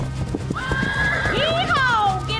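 A horse in the Fortnite video game whinnies in a rising and falling neigh over rhythmic clip-clop hoofbeats, loud and close, with a voice talking over it.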